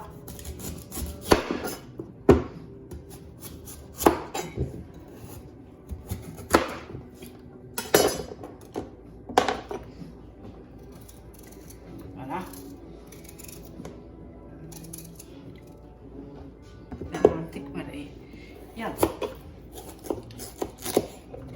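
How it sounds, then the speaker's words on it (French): Knife chopping food into small pieces on a cutting board while preparing a salmon-and-cream dish, with sharp, irregular thuds spaced a second or two apart and quiet kitchen background between cuts. "Je vais couper en petits morceaux."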